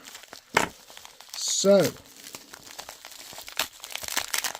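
Scissors or a blade cutting through sellotaped cardboard packaging, with brief crinkling, tearing and scraping bursts up close, and a short spoken word in between.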